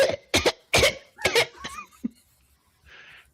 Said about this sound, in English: He'll also fake cough at you.